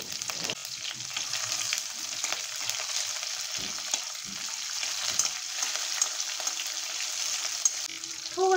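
Sesame seeds, curry leaves, mustard seeds and chillies sizzle in hot oil for a masoor dal dhokla tempering, giving a close, continuous crackling hiss with small pops throughout.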